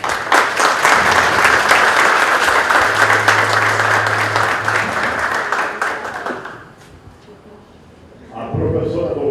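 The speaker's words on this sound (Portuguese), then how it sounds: "eu peço uma salva de palmas e muito obrigado" A crowd at an academic event breaks into loud, dense clapping that fades after about six seconds, with a voice speaking over it and a low hum in the middle before talk resumes.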